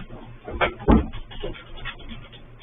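A house door thumps and clatters open as a dog is let outside, with a couple of close knocks and a soft whimper or pant mixed in.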